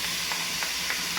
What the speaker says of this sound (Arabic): نحرك مزيان هاد الخضره ونخليها تشحر مزيان، تقلى مزيان